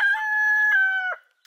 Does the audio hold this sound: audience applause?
no